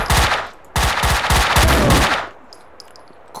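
Loud, close bursts of automatic gunfire from the video game Max Payne 2, two long rattling volleys that stop abruptly and leave a faint ringing tail, with no voices.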